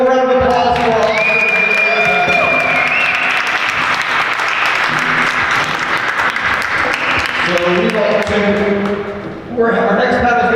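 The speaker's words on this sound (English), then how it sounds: "One more round of applause for our" An audience at a tech meetup in Jersey City claps in sustained loud applause for about nine seconds with a voice talking over it, then a speaker's voice resumes as the clapping fades.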